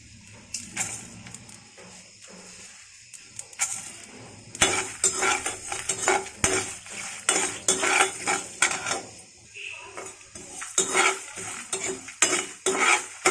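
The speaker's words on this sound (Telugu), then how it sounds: "ఒక కమ్మటి వాసన వచ్చే వరకు వేయించుకోవాలి" Toor dal frying and being stirred in a pan for methi rasam, with repeated scraping and clinking of a spoon against the pan over a steady sizzle, loud and close with no talk.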